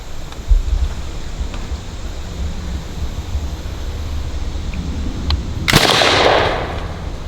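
A single loud report from a matchlock black powder gun, bursting suddenly after a steady outdoor background hiss and a few faint clicks, with a brief noisy tail fading over about a second.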